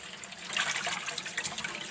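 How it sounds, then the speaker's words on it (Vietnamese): Tap water runs steadily into a sink at home, a close, hissing splash with a slight gurgle for a couple of seconds. "Ấy đang xả nước."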